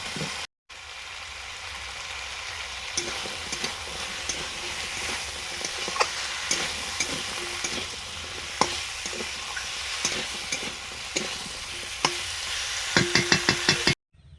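Stems and potato pieces sizzle and hiss as they fry in a pan, a steady close frying crackle broken by occasional knocks and stirring taps.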